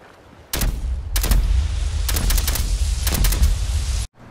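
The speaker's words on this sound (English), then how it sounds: "my spray and pray bullets are making big explosions in the water" Rapid bursts of gunfire in Fallout 4 blast into water, producing loud, crackling volleys with splashy explosive bursts, four clusters in quick succession over a rumbling background, with no talking.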